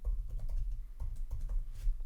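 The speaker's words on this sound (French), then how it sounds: "il va falloir taper son mot de passe" Password being typed on a computer keyboard: a quick run of soft, close key clicks with a steady patter throughout, no voices.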